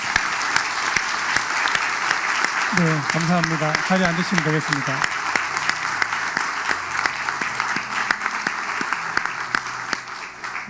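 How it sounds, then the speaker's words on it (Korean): Congregation applauding in a church during a Sunday evening service, sustained dense clapping filling the room while someone speaks over it with a brief melodic phrase. "이 업체들에게 감사의 박수를 보내주시기 바랍니다."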